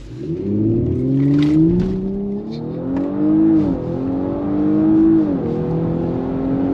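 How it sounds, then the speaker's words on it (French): A 400-horsepower Audi S5 engine revs hard in a launch-control start and accelerates, its pitch climbing through several gear shifts in sport mode, loud and close with no talking. "Boîte en mode sport, pied sur le frein, pied sur l'accélérateur, et on envoie."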